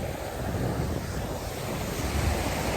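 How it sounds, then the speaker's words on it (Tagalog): Continuous low rumble of rough, churning ocean waves in heavy rain and wind buffeting the microphone, steady and unbroken throughout, with no voices. "nalalaki ng alon, no?"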